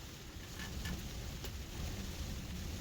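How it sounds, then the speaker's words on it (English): Heavy rain and wind batter the outside of a hot tent, a Dome X4, while wild camping in Scotland, heard from inside as a steady, dense hiss and patter with occasional louder drop impacts. "It's just been so good just to sit with that rain battering, the rain and the wind battering off the outside."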